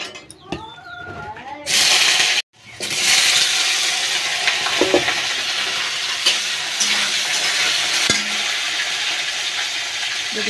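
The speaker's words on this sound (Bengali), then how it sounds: "আমি আগে আলুটা ভেজে নেব।" Potatoes frying in a hot wok, stirred now and then: a loud, steady sizzle rises after a short pause and carries on with scattered scrapes and clicks.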